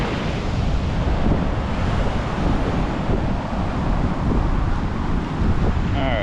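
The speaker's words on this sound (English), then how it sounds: "this ocean seems a little ticked off today" Rough ocean surf crashes and roars continuously, loud and broadband, with heavy wind buffeting the microphone throughout and no voices.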